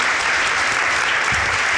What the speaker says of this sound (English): Give a round of applause to our great panel.